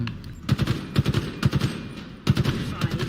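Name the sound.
gunfire in video game Halo Infinite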